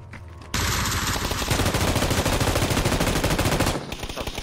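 Rapid automatic gunfire from a first-person shooter video game roars in a loud, continuous burst lasting several seconds before cutting off, close and dense with no talk over it.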